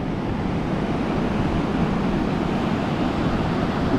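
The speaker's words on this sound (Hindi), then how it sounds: "ऋषभ थोड़ा आगे गया है लहरों के पास, लहरों को टच करने की" Steady broadband surf of sea waves washing onto a Goa beach, a continuous close wash with wind noise and no clear voices.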